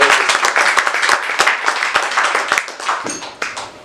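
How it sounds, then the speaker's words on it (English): A room full of people at a foundation launch event claps in a quick round of applause, dense overlapping hand claps that stay loud for a few seconds and then begin to thin out. "a quick round of applause for both Marcus and his father"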